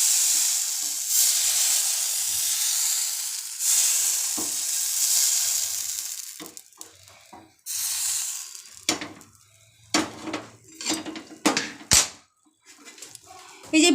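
Patishapta batter frying on a low flame, a steady loud sizzle and hiss that fades midway, followed by scattered scraping and clatter of utensils.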